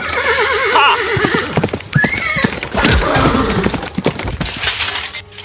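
Horses at a knights' jousting tournament neigh loudly and repeatedly, with whinnies rising and falling over fast, rhythmic clip-clop hoofbeats and sharp cracking impacts, close and prominent with no talk.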